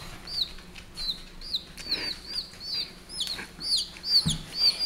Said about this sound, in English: They're the chickens.